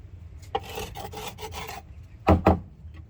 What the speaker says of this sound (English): I just scrape this off.